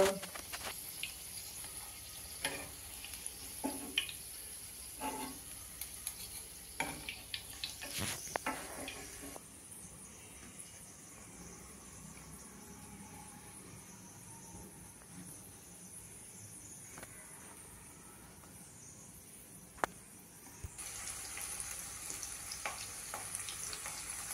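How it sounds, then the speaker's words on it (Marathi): Oats cutlets shallow frying in a pan, a steady close sizzle with small crackles and pops running throughout, briefly quieter in the middle before the hiss rises again. "दुसऱ्या बाजूने आपल्याला फ्राय करायचंय"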